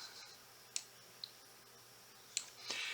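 Sparse, quiet clicks of keys being typed on a computer keyboard, a few separate taps spread unevenly across a near-silent background.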